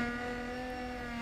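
Car engine from a six-to-eight-cylinder car gathering revving steadily, a brief, sustained harmonic drone held at constant pitch, fairly close and alone.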